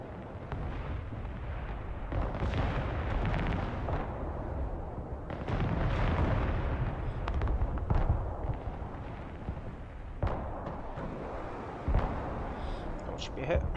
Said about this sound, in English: The artillery.